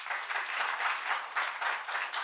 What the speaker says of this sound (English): You might want to wait till I'm done before you clap.